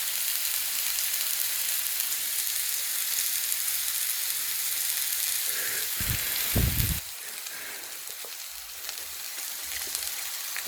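Steak sizzling on a skillet in a cabin, a steady frying hiss that swells into louder crackling bursts before settling back to a softer sizzle.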